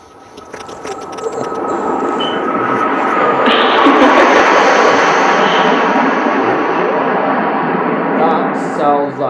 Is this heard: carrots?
no